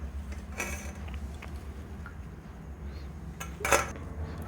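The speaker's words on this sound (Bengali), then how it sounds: "অল্প অল্প করে সয়াবিনটা আমি বেটে নেব।" Soaked soybeans are ground into paste by hand, a little at a time, producing faint, uneven scraping and rubbing over a low background hum, with two sharper grinding bursts.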